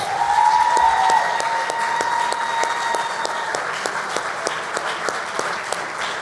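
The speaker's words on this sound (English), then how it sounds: "Let's give the inductees one more round of applause, please." A banquet-room audience gives Hall of Fame inductees a loud, steady round of applause, dense clapping that holds evenly throughout with a faint background tone and little talk.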